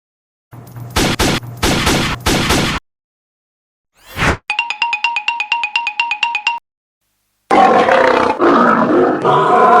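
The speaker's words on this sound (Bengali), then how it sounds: "পিছনে লাল বাঘ আসতেছে" A cartoon red tiger roars loudly in an animated Sundarbans scene, with short bursts of roaring set between a brief whoosh and a chiming ringtone-like jingle, the roars returning at the end.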